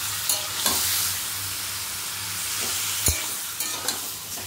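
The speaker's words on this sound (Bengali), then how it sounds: "এবার যে ম্যারিনেট করে রেখেছিলাম সেই চিকেনটা দিয়ে দেবো। এবার এটাকে একটু ভালো করে নাড়াচাড়া করে নেব।" Marinated chicken for kadai chicken frying in hot oil in a home kitchen wok, a steady close sizzle broken by scraping stirs with a sharp clank near the middle, no talk.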